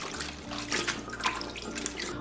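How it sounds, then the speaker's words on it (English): Brined cabbage rinsed under running tap water, a steady close splashing flow pouring into a sink with small bursts of water striking the leaves, no voices. "Rinse the cabbage twice in water and drain well."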